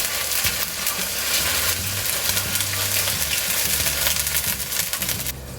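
Ginger paste stir-frying on a high flame for veg hakka noodles gives a loud, steady, crackling sizzle that runs unbroken, with occasional scrapes as it is mixed in the pan.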